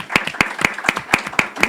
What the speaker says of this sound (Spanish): Es un aplauso para ustedes porque están acá.